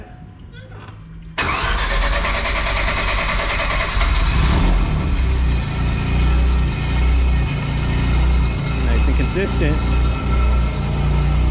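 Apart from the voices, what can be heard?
home-built six-rotor rotary engine starting and idling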